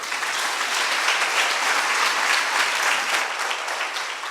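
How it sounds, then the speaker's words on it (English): An audience applauds the teams at a school debate competition, a loud, dense and sustained round of clapping filling the whole stretch. "Please give them a round of applause."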